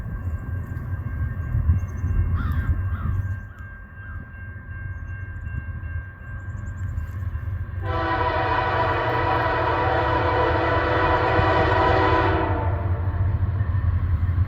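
CN freight train rolls through Ladysmith with a steady low rumble, and a loud, sustained multi-tone horn sounds for several seconds mid-pass.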